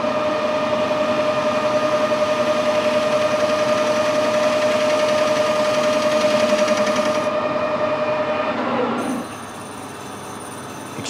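Metal lathe taking a facing cut across a workpiece: a loud, steady mechanical drone with a whining tone and rapid chatter, close-up, which drops in level and changes pitch near the end as the cut finishes.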